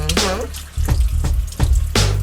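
Tap water splashes and gushes over a chuck roast being rinsed in a sink, loud and close, with the flow breaking into uneven surges as the meat is turned under the stream.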